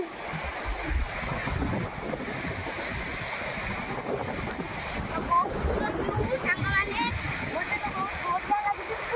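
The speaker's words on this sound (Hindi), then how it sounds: "समुद्र ढेउ आसी" Sea waves washing in near a river mouth on the Odisha coast, a constant rushing surf mixed with heavy wind buffeting the microphone, while people talk and call out faintly over it.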